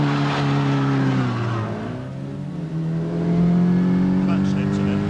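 A BMC Mini 1275 Clubman GT engine drones steadily as the car drives hard along narrow roads, the note dipping and then climbing again as revs rise, with people talking over the engine.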